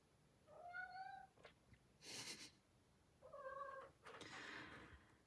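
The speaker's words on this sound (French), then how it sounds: "Je prie de m'excuser pour les miaulements derrière." A pet cat meows twice in the background, two clear drawn-out calls separated by faint rustling, quiet and alone with no talk.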